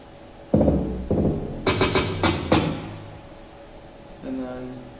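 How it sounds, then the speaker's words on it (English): A short drum fill from a live electronic track: a few heavy thumping hits, then a quick burst of layered snare and tom strikes, decaying into a faint tonal tail, alone and close. "Then I have this drum fill before the very end."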